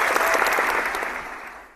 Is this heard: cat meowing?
no